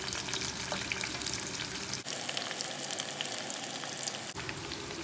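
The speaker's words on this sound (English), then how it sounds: "try slowly to separate all onion rings to make sure you fry it in a good way" Onion rings frying in oil for Egyptian koshari, a steady close sizzle with soft crackle and a brief break partway through, no voices.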